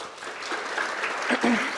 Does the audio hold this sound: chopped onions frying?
no